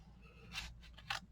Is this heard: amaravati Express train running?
no